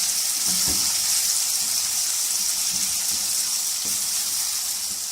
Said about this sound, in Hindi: अब हम इस मसालों को अच्छी तरह भून लेंगे आलूओं समेत।